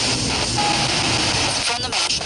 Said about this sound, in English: I've got a plane going so the noise is on